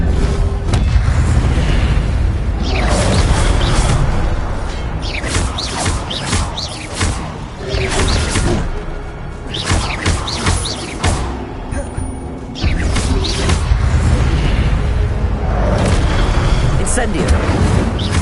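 Incendio fire spell cast repeatedly in Hogwarts Legacy, each a loud booming, crackling burst of flame that follows quickly on the last, with steady game noise filling the gaps.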